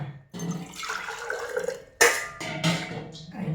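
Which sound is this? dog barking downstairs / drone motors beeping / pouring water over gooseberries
pouring water over gooseberries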